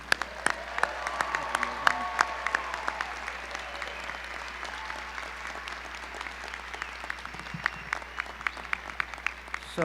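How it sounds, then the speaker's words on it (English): Audience applause welcoming new graduates at a medical school commencement ceremony, sustained clapping from a large crowd in a hall lasting about ten seconds, with sharp individual claps standing out near the front. "Let's applaud them and welcome them to the profession."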